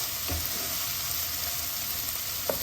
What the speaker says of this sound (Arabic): نخليو هادشي يتقلى